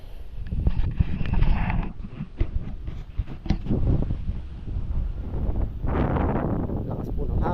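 Strong wind gusting outdoors on a farm, buffeting the microphone in uneven rumbling surges throughout, with a louder burst of rushing air near the end and occasional knocks and handling sounds.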